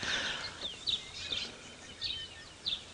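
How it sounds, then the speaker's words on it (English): Faint, sharp calls of a bearded woodpecker ring out in a few separate bursts against a quiet background, somewhat distant, during a sunrise safari drive. "You can hear woodpeckers in the background. Sounds like a bearded."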